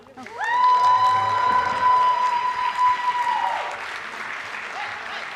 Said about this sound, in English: very warm round of applause for Nicole Oliver.